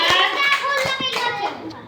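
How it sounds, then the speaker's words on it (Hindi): A primary class of young children claps loudly together in a Hindi-language lesson, with sharp bursts of hand claps mixed in among children's voices and chatter close by. "जोरदार ताली बजाइए।"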